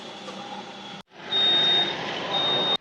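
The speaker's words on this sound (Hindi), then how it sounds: "जब मशीन बीप करेगा तो हम इस नोज़ल को निकाल देंगे।" A digital tyre inflator at a petrol pump fills a car tyre with a steady hissing air stream, broken by a short pause, while a high electronic beep tone sounds steadily through the latter part.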